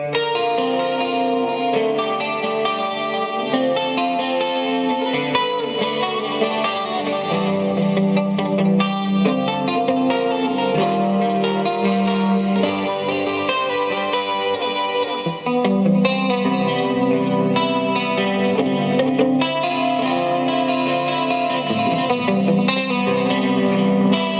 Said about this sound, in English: switch over to the Bassman sound, you'll see that it obviously gets less sparkle, more mid-rangey